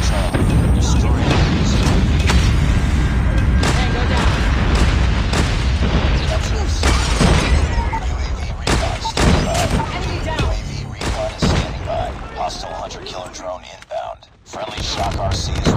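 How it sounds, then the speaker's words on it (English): A Call of Duty Mobile match erupts with rapid gunfire bursts and heavy explosion booms, loud and layered with rumbling blasts, while game voice announcements sound over the chaos. "Friendly Nuke has been launched"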